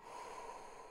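A person draws a steady breath in through the nose during a guided breathing exercise, a single soft continuous inhale heard up close and alone.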